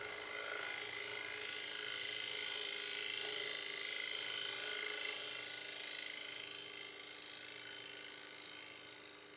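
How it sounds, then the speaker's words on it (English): A scraper works a small maple bowl on a lathe, giving a steady, bright grinding whir with a fine ratcheting texture that continues evenly and close throughout. "My bowl scraper."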